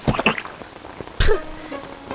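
Rain in the Cluefinders 5th Grade Adventures video game, a soft patter with a few sharper splashy bursts, one loud burst about midway, fairly close and without talk.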